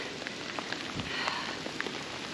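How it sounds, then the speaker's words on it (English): Heavy rain pours steadily during a thunderstorm on the Appalachian Trail, a dense close hiss with scattered drops striking nearby surfaces. "It's raining pretty bad."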